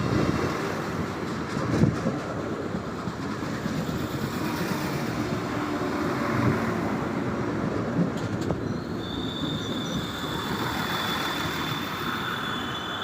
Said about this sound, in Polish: przejeżdża pociąg Regionalbahn racji Berlin-Ostkreuz Kostrzyn